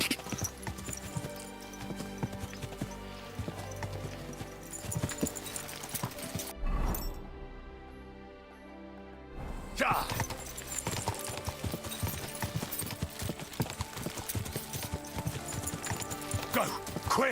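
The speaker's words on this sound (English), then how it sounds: "This horse must have cost a pretty grot." Horse hooves clip-clop in a steady rhythm across the medieval world of Kingdom Come: Deliverance 2, mixed with game ambience and occasional speech, with a short quieter gap midway.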